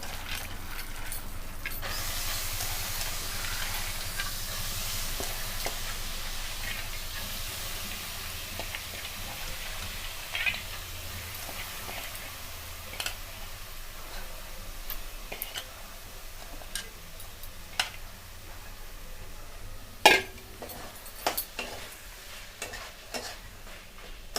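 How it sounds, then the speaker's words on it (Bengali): Soaked chana dal frying in spiced oil crackles with a continuous low sizzle while a utensil stirs and scrapes the pan, leaving scattered ticks and taps, with one sharper knock near the end. "ভিজিয়ে রাখা যে ছোলার ডালটা নিয়েছিলাম সেটাকে দিয়ে ভালো করে কষিয়ে নেব"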